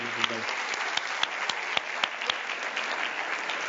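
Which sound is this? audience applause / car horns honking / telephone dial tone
audience applause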